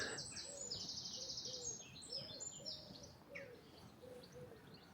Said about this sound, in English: Goldfinches flying over.